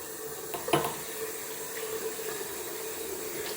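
Water running from a tap to rinse out a bathroom sink, a steady close hiss of flowing water with a few brief splashes and clinks near the start, no speech.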